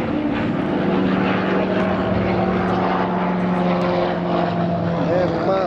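A propeller aircraft of the Halcones aerobatic squadron takes off at an air show at the Air Force Academy, its engine a loud, steady drone for the whole span, with no talk over it.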